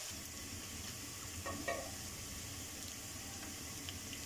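Ginger and garlic sautéing in oil with onions, a soft continuous sizzle with a short scrape of stirring in the middle, quiet and close.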